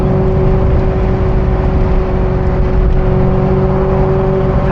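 A Ferrari 348 engine pulling steadily at partial throttle while driving, a loud, continuous, close drone with a strong low hum and steady harmonic tone, no talk over it.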